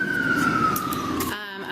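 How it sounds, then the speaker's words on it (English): Emergency vehicle siren wailing outside, a steady gliding tone heard continuously under room noise before cutting off near the end. "on this machine, I've got sirens as always"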